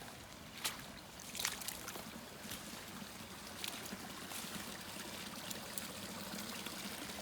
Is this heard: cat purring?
no